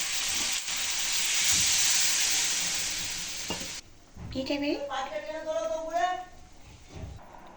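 Frying chicken and potato curry hisses loudly and steadily for a few seconds. Then the sizzle cuts off sharply as water goes in, followed by someone speaking over softer bubbling.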